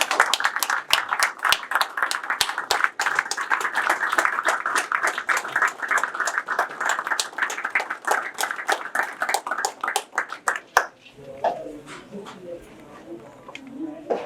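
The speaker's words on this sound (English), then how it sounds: "give these people a round of applause for what they do" Audience at a university post-season sports gathering breaks into sustained clapping and applause, dense and steady for about ten seconds before fading into scattered claps and murmuring.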